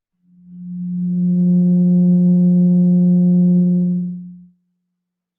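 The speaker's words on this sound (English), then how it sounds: "First, let's listen to what the 180 total degrees contained in a triangle sound like." A pure electronic tone at 180 hertz swells in, holds steady and loud for about four seconds, then cuts off, followed by a brief click.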